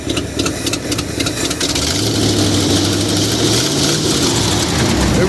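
A 1978 Ford F350 flatbed dually truck engine runs steadily close by, a continuous low rumble that holds throughout, with a slight rise in pitch toward the end.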